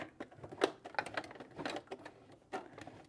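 A sewing machine stitching a leather clutch handle, short irregular mechanical clacks and taps in quick bursts with brief pauses, fairly quiet and close.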